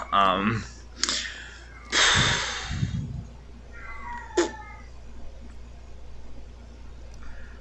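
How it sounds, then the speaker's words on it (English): Cat yowling indoors, a series of loud drawn-out caterwauls and shorter meows coming close in irregular bursts, with a person talking between them. "One of the cats is very horny right now."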